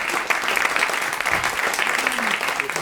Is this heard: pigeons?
no